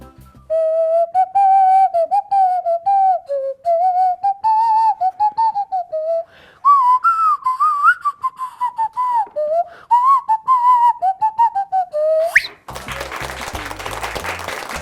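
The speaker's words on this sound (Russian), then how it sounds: "Носовая свистулька деген" A nose whistle plays a wavering, pitch-sliding melody in short breathy phrases, loud and close, ending abruptly as a burst of noisy background sound takes over.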